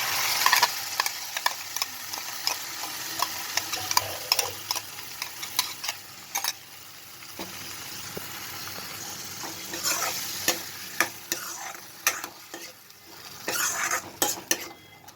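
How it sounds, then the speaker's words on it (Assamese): Tomato paste sizzles steadily in oil in a pan, with occasional sharp scrapes and clinks of a spoon stirring against metal, close up and without talk. "এতিয়া এইখিনি তেল বিৰিঙালৈকে ভাজিম"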